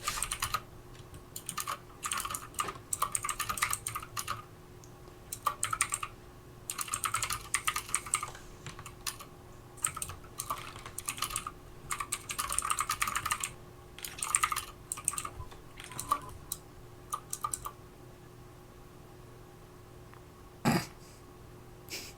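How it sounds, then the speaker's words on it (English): Typing clatters steadily on a loud mechanical keyboard in a room with a faint background hum, clicky bursts of keystrokes coming in irregular runs with short pauses, close to the microphone. "Try and ignore Tim's incredibly loud mechanical keyboard."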